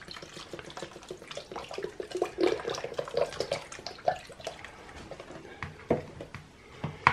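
Cream, 10% fat, poured into a bowl while making a quark cake with apples and honey, a soft continuous liquid trickle with small splashes running for several seconds, close and fairly quiet.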